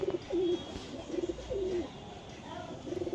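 A male pigeon of a prized breed coos repeatedly in soft, rolling phrases close by, the calls coming in a loose rhythm over quiet room noise.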